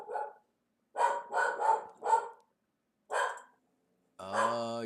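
A pet dog named Ellie barking indoors, several sharp barks in an uneven cluster followed by a single bark, then a higher whine, with no talk over them.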